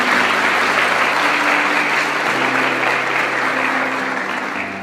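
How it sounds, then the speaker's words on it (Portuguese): A church congregation breaks into sustained, dense applause, loud and even throughout, tapering slightly at the end. "Vamos dar uma salva de palmas para a palavra de Deus."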